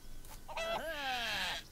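A chicken in the video game Craft the World gives a single close, loud squawking cluck with a rising, drawn-out harmonic call, alone over faint background.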